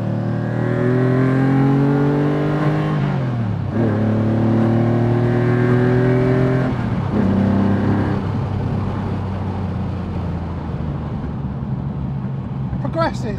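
A TVR Tuscan S sports car engine pulls loudly through several gears, each rising whine dropping sharply at the shift, then settles into a steady cruise drone with speech over it.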